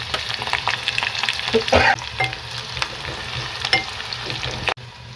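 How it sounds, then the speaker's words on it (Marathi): Loud, steady sizzle of chopped onion hitting hot oil with cloves in a pan for a Maharashtrian dhaba-style mutton keema, broken by stirring scrapes, then a sudden drop in level near the end. "आता कांदा घालून घेऊया कांदा परतला की आपण याचं हिरवं वाटण घालायचं"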